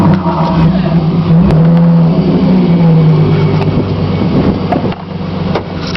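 A 1999 Chrysler 300M with a Flowmaster exhaust revs loud and close, a deep throaty roar that swells and holds before easing off toward the end.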